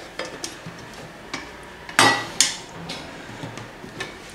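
Metal washers and 10 mm bolts are handled while a satellite dish mast is mounted, giving a few light metallic clinks and taps, with two sharper, louder clanks close together mid-way amid quiet background noise.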